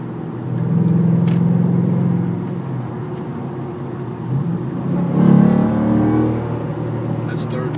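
A 2012 Ford Mustang GT 5.0 accelerates on a highway with a low engine drone that rises, dips briefly at the shift into third gear, then climbs again, with steady road noise underneath.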